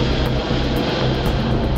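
A C-17 Globemaster III military transport aircraft produces a loud, continuous engine roar with a broad steady rush and faint rhythmic pulsing, close and unbroken.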